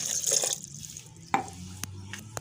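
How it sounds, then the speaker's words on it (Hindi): Half a glass of water poured into a blender for pomegranate juice, a brief splashing pour followed by a few drips and small clinks. "आधा गिलास पानी डाल देंगे हम इसमें"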